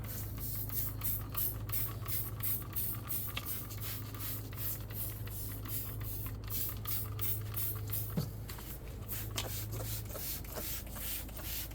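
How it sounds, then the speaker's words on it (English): Cleaner sprayed inside a grill during cleaning, a rapid series of short hissing spray bursts from a trigger bottle, close and fairly quiet, repeating in quick rhythm throughout. "I'm spraying the top, the whole inside, I'm soaking it."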